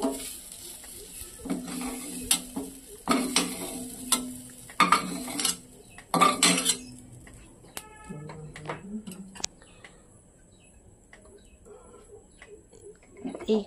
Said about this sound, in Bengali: কড়াইটা থেকে তুলে নেওয়া হচ্ছে